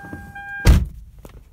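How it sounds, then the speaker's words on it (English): A Toyota car door shuts with a single solid thunk, close and fairly loud, after a brief electronic chime tone, then quiet interior ambience. "Close the door."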